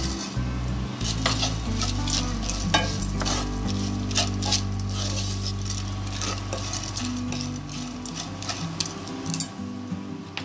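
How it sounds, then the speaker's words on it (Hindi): Dry coconut and lentils being dry-roasted in a pan, with steady scraping and stirring from a utensil and light clinks against the metal, repeating through the whole stretch without any talk. "ये ड्राई कोकोनट, थोड़ा रोस्ट करना है, साथ में ये दाल"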